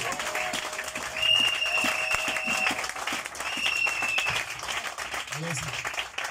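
A church congregation applauds with dense, steady clapping and crowd noise, while high sustained tones ring out and voices call over the clapping.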